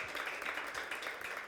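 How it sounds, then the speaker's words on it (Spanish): Applause rises from an audience at a heritage festival talk in Teotihuacan, a faint, steady patter of many hands clapping for a few seconds with no voices over it. "Demos un aplauso fuerte para el doctor Alejandro Villalobos"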